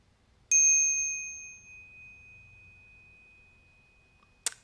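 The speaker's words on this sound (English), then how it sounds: "I gotta be careful with this bell." A single bicycle-style bell struck once, close to the microphone, ringing out with a bright pure tone that slowly fades over about four seconds, followed by a short knock or clatter at the end.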